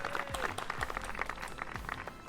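Applause from a team crowd in the racing game F1 2021, a faint, steady patter of many hands clapping continuing throughout.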